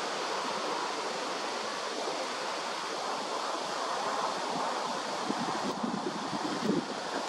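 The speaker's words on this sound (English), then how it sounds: "unfortunately there's some wind today, so the shaking is from the wind." Steady broadband wind rushes outdoors, buffeting the microphone for the full stretch with a constant roar, a few louder gusts near the end and no talking.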